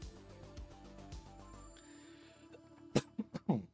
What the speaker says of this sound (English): apologies for the sneezing and coughing you're all going to hear constantly